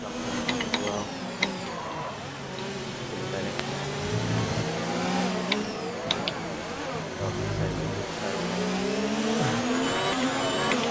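Formula 1 race car engines in the video game F1 2019 during a league race at Britain, droning and shifting pitch as the cars accelerate and brake, with a few sharp clicks, under continuous talk.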